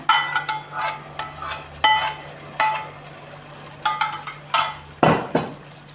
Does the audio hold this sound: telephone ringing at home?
no